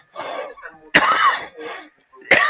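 An adult gives a short run of harsh, chesty coughs close up, with a throat-clearing quality and brief pauses between bursts.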